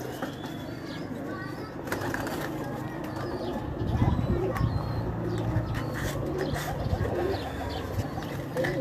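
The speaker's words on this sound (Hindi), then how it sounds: "ये जी सलकोटी कबूतर है माशाल्लाह" Salkoti pigeons coo on a rooftop loft, their low throaty calls repeating through a busy background of other birds while someone talks nearby.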